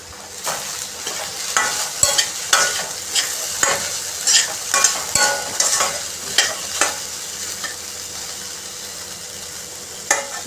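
Potatoes sizzle in a pan while a spoon stirs them in rhythmic scraping strokes, cooking for sabudana khichdi. The stirs repeat about every half second over a steady frying crackle, close up, until they stop near the end.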